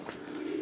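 A pigeon near its coop gives a single short, low coo, soft and fairly close.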